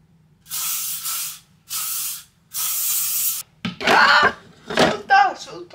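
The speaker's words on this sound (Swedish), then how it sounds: "Sluta, sluta spraya!" Three hissing bursts of hairspray from an aerosol can, close and steady, each about a second long with short pauses between, then a person speaks right afterward.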